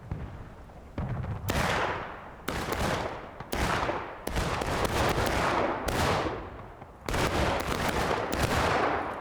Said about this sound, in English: Nice shooting from First Delaware here.